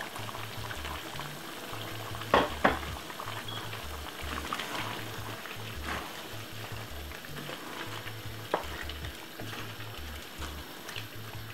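Thick chicken stew bubbling and simmering in a pot, with a couple of sharp clanks as vegetables are stirred in.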